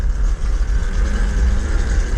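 Tuttio electric dirt bike pushed to full throttle in eco mode, a steady droning motor whine with wind and road rumble, loud and close, no voices.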